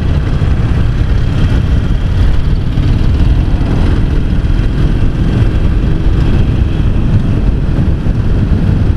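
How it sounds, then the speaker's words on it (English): A Harley-Davidson XL883C with its 883cc engine runs on a ride, producing a loud, unbroken low rumble blended with heavy wind roar throughout, with no voices. "Newton meters of torque I think this engine has got, so quite a torquey engine"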